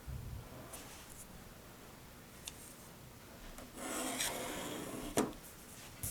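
A pencil drags across paper as diagonal guide lines are drawn corner to corner, giving soft, scratchy rubbing strokes with a few sharper scrapes, close and quiet, with no voices.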